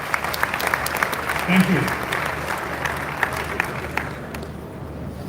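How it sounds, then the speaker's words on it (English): Applause from a large live audience at a motivational talk in Ghana, steady clapping throughout with a short voice speaking over it. "Let's give him a round of applause"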